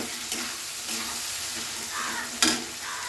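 A tomato and pea curry base is stirred in a hot pan, giving a continuous sizzling hiss broken by a few sharp scrapes and clinks of the spoon against the pan.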